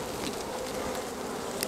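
Honey bees buzz steadily at an opened beehive during a frame inspection, a dense, close, continuous drone with individual bees passing near.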